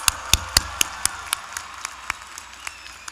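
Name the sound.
applause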